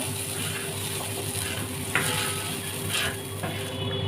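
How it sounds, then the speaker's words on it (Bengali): Mutton keema with peas, coriander and roasted cumin sizzling in a pan, a constant close fry broken by a couple of brief scraping stirs, with no one talking. "একটু ওপর ওপর ছড়িয়ে দিয়ে হালকা জাস্ট নেড়ে নেব"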